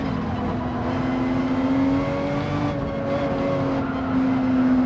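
A Lamborghini GT3 race car in Gran Turismo 7 runs at a steady high-pitched engine whine that rises slightly as it accelerates, loud and close, with no talk.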